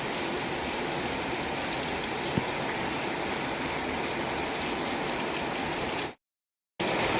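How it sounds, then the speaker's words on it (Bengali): Heavy rain pours down steadily and loudly, a dense continuous wash of falling water with a brief dropout near the end. "হঠাৎ করে এত জোরে বৃষ্টি কেন জানি না"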